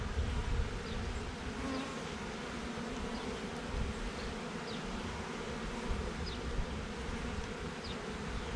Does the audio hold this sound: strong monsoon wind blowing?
no